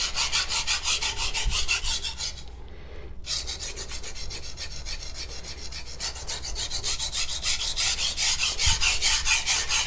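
A Magnacut steel knife blade rasps against a CBN sharpening stone on an aluminum plate in rapid, rhythmic back-and-forth strokes, with a brief pause near the start before the scraping resumes steadily.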